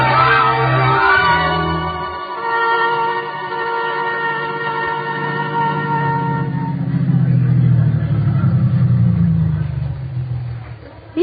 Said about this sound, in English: Eva, why is the car stopping?